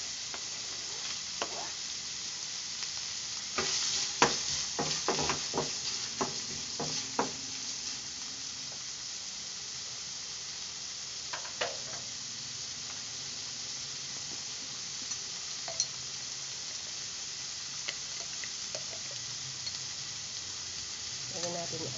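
Onion sautéing in a pan for a simple radish and carrot dish: a steady, close sizzle with scattered clicks and scrapes of stirring, busier near the start and then settling into continuous frying.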